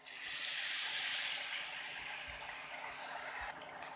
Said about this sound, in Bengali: দেব পরিমাণ মতো পানি।